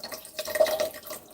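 Water drips and trickles from bitter leaf as it is squeezed and rinsed by hand over a sink, a short patter of droplets at moderate loudness with no talking.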